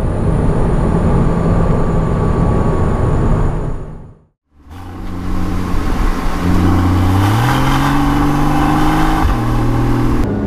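A Porsche Boxster GTS engine and exhaust drone loudly at speed, cut off briefly by a near-silent gap, then returning as the revs climb with rising and falling tones through gear changes.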